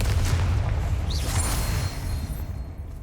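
Confringo blast spell exploding in Hogwarts Legacy, a deep booming impact with a heavy low rumble and a brief whistling zip, decaying over a few seconds.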